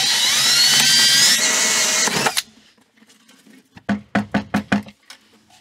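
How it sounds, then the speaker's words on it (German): A 56 mm hole saw drills open the closed inlet of a small lifting unit. A loud, steady whining cut runs for about two seconds and stops abruptly, followed by a quiet pause and a quick series of sharp knocks. "Beide Zuläufe sind geschlossen, können mit der Lochsäge 56 mm geöffnet werden."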